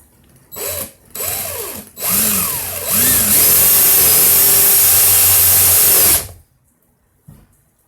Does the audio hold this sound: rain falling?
no